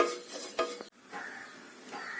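Masala with chilli powder, curry masala powder and turmeric stirred and roasted in a pan for chicken gravy, with close scraping strokes of a spoon and a soft sizzle under them, plus one short break.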